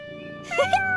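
A house cat gives a short two-part meow, close and fairly clear, over a faint steady background hum.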